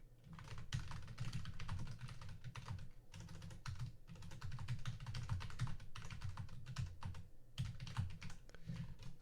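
Rapid, continuous typing on a computer keyboard while coding, dense clicking keystrokes in quick bursts with brief pauses, close and moderately quiet, no talking.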